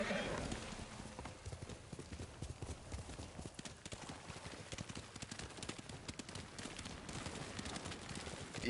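Horse hooves clip-clop in the video game Ghost of Tsushima, a steady rhythmic trot that runs throughout with an occasional whinny, while a voice talks over it.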